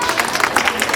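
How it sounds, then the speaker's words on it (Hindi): A crowd at a large outdoor rally gives dense, continuous applause, loud and close throughout, with a murmur of voices mixed in. "एक बार जोरदार तालियां।"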